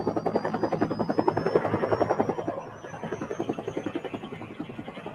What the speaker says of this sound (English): the chopper heads out over the glacier